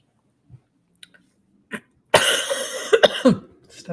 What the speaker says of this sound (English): Stuff is making me cough.